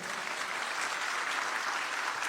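Continuous applause from a church congregation during a sermon, dense and steady clapping from many hands without a break.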